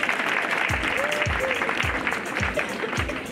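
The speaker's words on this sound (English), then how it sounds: "Let's clap for them as they come in." An audience at a girls' high school event claps as a band enters, steady broad applause with a rhythmic low thump beating about twice a second beneath it.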